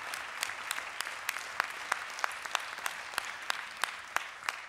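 Steady audience applause at live music auditions, many hands clapping, sharp claps standing out at a regular beat over a dense wash of clapping, fairly close and loud.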